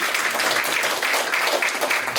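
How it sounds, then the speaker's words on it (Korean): Audience applause at a Korean theatre awards ceremony, steady dense clapping throughout the short burst, moderately loud and fairly close, with no talk over it. "여러분 박수 부탁드리겠습니다."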